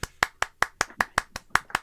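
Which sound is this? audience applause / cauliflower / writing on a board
audience applause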